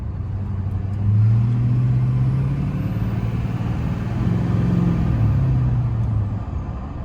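A twin-turbo Duramax diesel pickup drones steadily at close range, a deep low rumble that swells and eases as the engine pulls and the turbo spools, with no voices over it.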